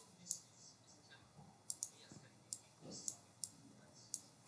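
Keys clack on a computer keyboard in quick, irregular bursts of sharp clicks, close but fairly faint, with soft speech-like sounds in the background.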